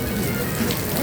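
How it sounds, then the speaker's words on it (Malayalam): Heavy, unbroken rain at the Mini Ooty hill spot, a dense steady wash of noise from start to finish with a faint low voice-like murmur underneath. "1 മണിക്കൂർ നിൽക്കാതെ പൊരിഞ്ഞ മഴ."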